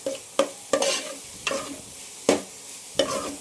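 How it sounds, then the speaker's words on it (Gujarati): Carrots being sautéed in a little oil for vegetable soup, a spoon scraping and stirring in the pan in short repeated strokes, about six distinct scrapes over a soft sizzle, close by. "ભેગું આપણે ગાજરી ઉમેરી દઈએ. થોડું એવું શેકી લઈ."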